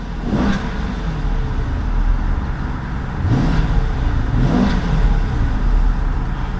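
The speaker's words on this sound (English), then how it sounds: "give this thing a couple revs and see what kind of soundtrack that big old V8 produces" Big V8 of a 2012 Dodge Charger SRT-8 blipped in park, three separate rev swells climbing and dropping back to a low idle burble, a fairly subdued exhaust note with nobody speaking.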